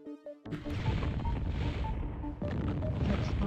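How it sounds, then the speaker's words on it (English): A loud, booming explosion in the video game Fire Fight bursts in after a short tonal lead-in, rumbling on with crashing debris, then a second blast hits near the end; close and heavy throughout. "Explosion imminent."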